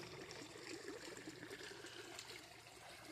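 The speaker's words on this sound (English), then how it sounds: "Water flowing into the pond." Rainwater after a drought runs into a pond with a continuous, low trickling and gushing wash, steady and fairly faint, with no voices.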